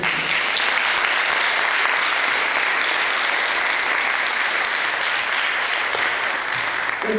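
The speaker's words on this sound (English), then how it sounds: "Ladies and gentlemen, another round of applause for Tom Joyner" Audience at a motivational youth event applauds loudly and steadily, a dense, unbroken wash of clapping that holds at full strength throughout with no speech on top.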